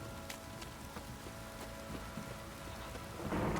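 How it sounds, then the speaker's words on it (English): A heavy rain downpour in The Witcher 3 hisses steadily as a dense wash of rainfall, with a low rumble like distant thunder building toward the end, no talking. "This downpour's a bastard, it is."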